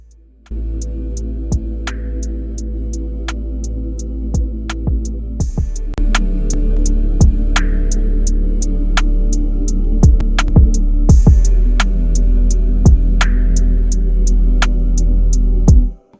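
An unmixed, unmastered R&B trapsoul beat made with FL Studio stock plugins plays as a loud looping pattern of deep sustained bass, sharp ticking hi-hats and periodic punchy hits, running steadily without vocals.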